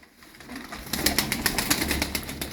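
Show tumbler pigeons cooing close by, a run of rapid, rhythmic soft coos starting after a quiet moment and continuing steadily.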